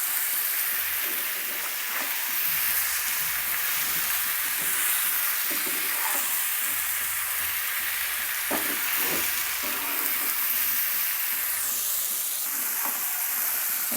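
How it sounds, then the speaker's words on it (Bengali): Chicken pieces for a spicy curry are stirred and fried over medium heat in a pan, a dense continuous sizzle with scattered scraping clicks from the spoon, loud and close throughout. "চিকেনগুলো আমি নেড়ে ভালোভাবে ভেজে নেব হাফ সেদ্ধ হওয়া পর্যন্ত।"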